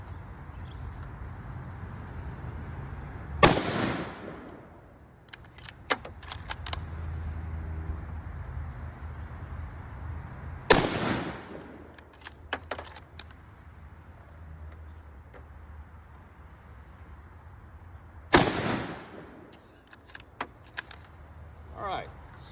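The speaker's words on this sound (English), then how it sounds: "All right, so we just fired off 3 of the same rounds. 165 grain bullets" Three 165 grain rounds fired over a chronograph, spaced several seconds apart as single sharp cracks, each followed by brief rattling and scraping sounds amid low outdoor background noise.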